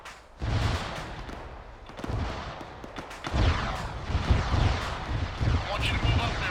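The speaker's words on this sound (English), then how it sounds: "To the trees to your southwest, those are the mortars." Mortar fire during a military field training exercise thuds and booms in repeated heavy blasts with rumbling echoes, loud and fairly close, spreading across the whole stretch with little pause.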